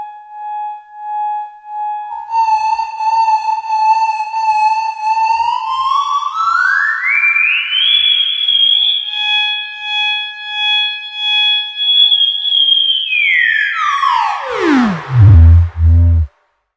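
A Soviet Elektronika EM25 synthesizer's filter self-oscillating: a loud whistling tone that glides upward, holds a high steady pitch, then plunges down into a deep rumbling growl, with no one talking.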